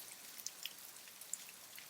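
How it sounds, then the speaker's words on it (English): Light rain falls behind a porch as a soft, steady hiss, with a few sharper drops tapping here and there, faint and distant, and no one speaking. "I hope the rain wasn't too loud behind us."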